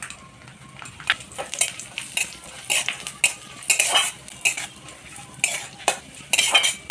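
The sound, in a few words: cashews, almonds and raisins lightly frying in ghee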